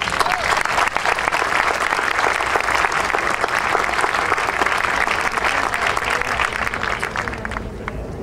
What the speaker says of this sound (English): Well, let's give them all a round of applause.